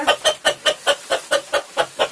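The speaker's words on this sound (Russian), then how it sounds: "Вау, вот это петух, Кириллка, смотри." A Brahma rooster clucks close by in a quick, even series of about nine sharp, loud calls, with no voices over them.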